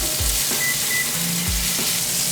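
Burger patty frying in a smoking hot pan at around 400 degrees, a steady close sizzle and crackle of rendering fat with a few faint clinks, no talking.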